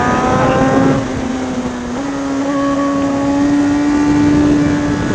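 Sport motorcycle engine, a GSX-R1000, CBR600, ZX-10R or Panigale V4, revving and holding steady on a mountain road, loud and close with a sustained whining tone that rises slightly, no talk over it.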